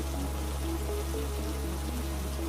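Steady heavy rain pouring in a cartoon, filling canals and ponds; a continuous wash of rainfall with a low hum beneath, alone without voices.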